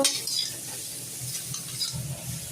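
Maggi noodles cooking in a pan in a home kitchen, with soft scraping stirs, light clinks of a utensil and a faint sizzle, close and quiet.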